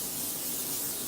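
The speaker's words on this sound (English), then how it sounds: "we do have to spray it with a nonstick cooking spray" Nonstick cooking spray hisses from a can into a baking dish, a steady, close, unbroken spray lasting about a second with no speech.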